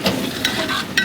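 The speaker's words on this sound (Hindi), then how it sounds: "अभी सब्जियों को और चिकन को अच्छे से भून लेंगे" Chicken with potato and carrot pieces fry in oil for a chicken pulao, giving a steady sizzle across the whole stretch, with stirring scrapes near the start, middle and end.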